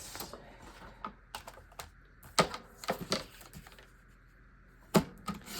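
Scrapbook paper for a nautical summer layout being trimmed to size with a cutter, giving a run of sharp, close clicks and brief slicing scrapes with quiet gaps between them, and no talking.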